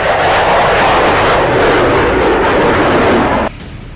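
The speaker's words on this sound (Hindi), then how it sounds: "बाइडेन का ये भूतिया फाइटर जेट अमेरिका के लिए बदनामी की बहुत बड़ी वजह बन चुका है" A fighter jet engine roaring loudly and steadily with a dense broadband rush, cutting off abruptly near the end to a lower, quieter rumble.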